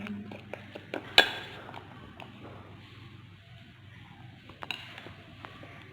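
Spoon scraping and clinking against a bowl while sandalwood powder face mask is mixed, a few sharp clinks and soft scrapes, close and fairly quiet.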